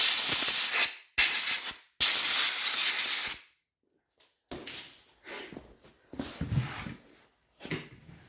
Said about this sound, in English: Give it a shot of brake clean.